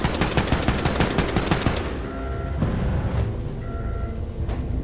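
A rapid, loud burst of automatic gunfire in Wolfenstein 2: The New Colossus rattles for nearly two seconds, then cuts off, leaving quieter game ambience with a few faint tones.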